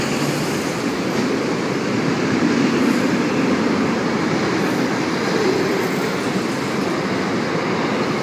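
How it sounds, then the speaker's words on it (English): A short freight train rolls steadily past at a Sydney suburban station, a continuous rumbling rail noise with faint wheel clatter, fairly near and unbroken throughout. "Yeah, short freight train."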